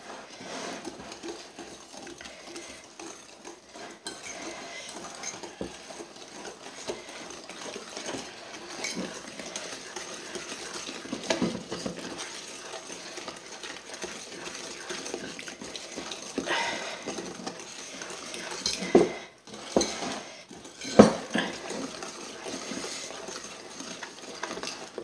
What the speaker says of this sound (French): Et maintenant, on remue de façon d'avoir une jolie pâte homogène.